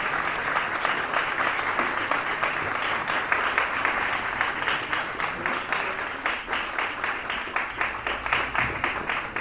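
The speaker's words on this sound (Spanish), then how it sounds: "Aplauso grande." Audience at an awards ceremony claps steadily in a sustained round of applause, dense and even throughout with no voices over it.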